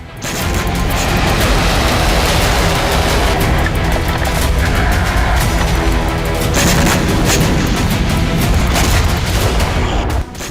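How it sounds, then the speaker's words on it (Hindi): Iranian air defense fires into the night sky in a dense, continuous barrage of booms and rapid bursts, loud and unbroken for about ten seconds. "आसमान में होती इस आतिशबाजी के जरिए ईरान ने अपने एयर डिफेंस सिस्टम का डंका दुनिया में पीटना शुरू कर दिया है।"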